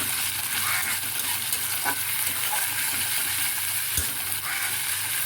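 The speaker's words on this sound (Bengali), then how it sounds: "বাটা পেঁয়াজটা দিয়েও আমাকে একটুখানি ভেজে নিতে হবে" Onion paste sizzles steadily in hot oil in a pan while a hot and sour tilapia curry is being cooked, with soft scraping and stirring sounds and an occasional clink of a utensil against the pan.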